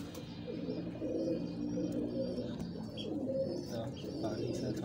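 Soft pigeon coos repeat at close range over a faint background murmur, the low throaty calls blending together.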